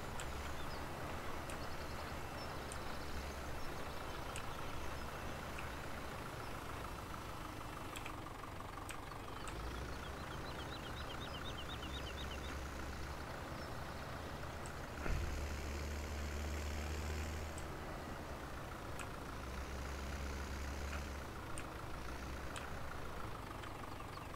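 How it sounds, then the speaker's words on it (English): A farm tractor engine in the Farming Simulator 17 video game runs steadily at a low, droning idle and then pulls under load. The sound continues without a break and stays even and moderately loud, with no talking. "It's actually got pretty good back pressure on the engine on this thing"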